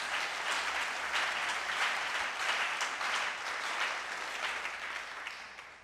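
An audience breaks into applause at a church service, a dense, even wash of clapping that stays steady and fairly faint from start to finish.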